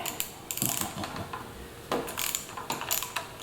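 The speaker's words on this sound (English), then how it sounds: "this is a small 1/4 inch drive set, and that fits in there quite nicely" A quarter-inch drive socket ratchet turning while hand guards are fitted to a Triumph Tiger Sport 660 motorcycle: quick bursts of crisp, close ratcheting clicks with short pauses between strokes.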